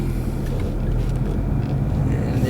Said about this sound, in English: I'll leave you guys with a nice little acceleration here